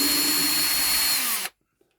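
Power drill backing a screw out, a loud, close, high whirring run lasting about a second and a half before it stops abruptly, followed by a faint small clunk.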